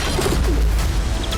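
A pigeon cooing in a desolate high-altitude area above 12,000 feet near Amarnath, a few soft low coos close by over a faint windy background.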